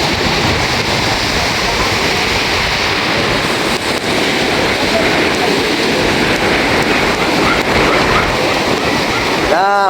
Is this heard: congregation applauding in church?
no